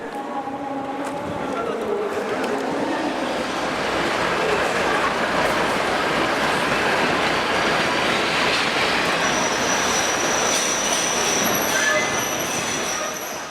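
Train carrying travellers from North Korea back to China in 2011, a steady loud rumble of wheels on rail with metallic squeal and rattling running throughout, close and continuous with no talk.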